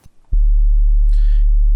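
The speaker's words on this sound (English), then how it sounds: "You'll have a sine wave in the mids and a sine wave in the sides that don't collide with each other" Two synthesized sine waves, one at 0 phase and the other 90 degrees apart, split between mid and sides in Ableton. A low, steady bass tone starts abruptly and holds loud, with a brief faint hiss partway through.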